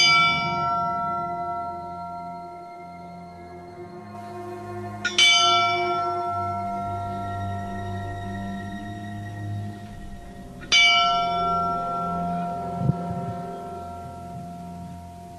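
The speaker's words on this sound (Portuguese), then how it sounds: "Olha só esse sino, rapaz." A large old bell at a farm estate rings out loud and close, two clear clanging strikes about five seconds apart, each leaving a long ringing, shimmering decay, with no voices over it.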